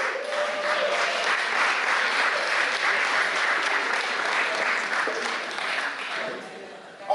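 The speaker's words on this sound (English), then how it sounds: "Big round of applause to all of you." A crowd gives sustained applause at an outdoor community day event, a dense, continuous clatter of many hands that holds steady for several seconds before tapering off near the end.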